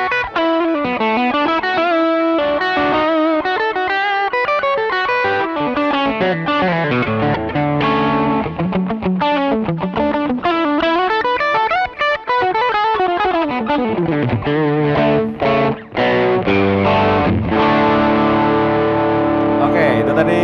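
A Charvel San Dimas Pro Mod electric guitar, made in Mexico in 2016, played through a split-coil pickup with overdrive. It plays loud, continuous melodic runs and sustained notes with a gritty, driven tone, heard alone.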